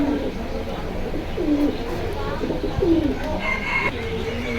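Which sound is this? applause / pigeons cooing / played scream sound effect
pigeons cooing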